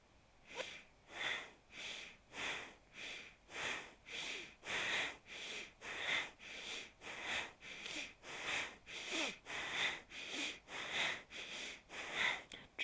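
Strong rhythmic breathing exercise driven from the navel during a Kundalini yoga warm-up, with about twenty sharp nasal sniffs and exhales in a steady fast pulse, close and alone.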